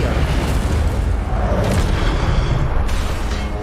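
Incendio fire spell cast in Hogwarts Legacy, a loud, dense whooshing roar of flame with booming low rumble sustained throughout, no talking.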